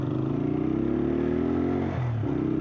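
A motorcycle's engine idles at a red traffic light, a close, steady low rumble with slight pitch shifts and a brief throttle change near the end, no talking.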